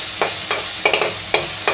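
Raisins frying in ghee in a pan at home, a steady close sizzle with repeated soft scraping stirs about every half second, no voices.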